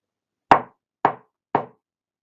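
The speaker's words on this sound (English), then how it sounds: "heard a knock at the door" Three firm knocks on a door, evenly spaced about half a second apart, close and clear against silence.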